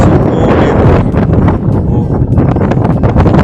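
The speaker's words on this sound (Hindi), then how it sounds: "इतनी तेज़ हवा और बारिश आ गई है" Strong wind roaring and buffeting across the microphone, with a constant rushing noise of rain beneath it.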